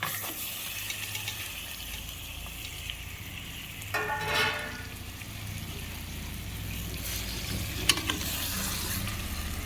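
Marinated mutton with ginger sizzles in hot oil in a cooker, a constant dense frying hiss with occasional scraping stirs and clinks, close and steady.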